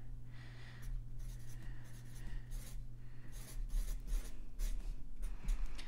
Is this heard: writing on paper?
yes